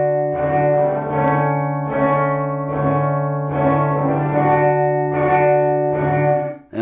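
Electric guitar sent through a reverb pedal with only the wet signal, so swelling washes of chords bloom and fade in a slow pulsing rhythm, loud and ambient with no dry attack.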